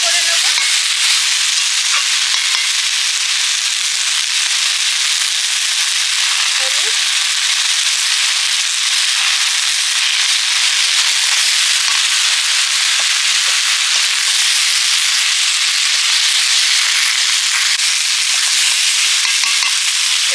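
Water poured onto lightly fried vegetables in a hot pan sets off a loud, continuous hissing sizzle with dense crackling that holds steady from start to finish.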